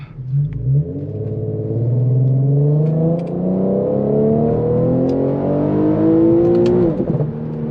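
An Infiniti Q50 with a burble tune drones steadily and close while driving, engine pitch climbing through the gears with a brief drop near the end.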